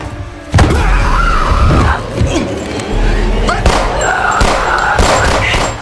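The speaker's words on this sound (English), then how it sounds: "Hearing gunshots, the female officer and Rebecca rushed to the living room" Several sharp, loud bangs ring out over a tense, noisy scene, with scattered thuds and impacts between them.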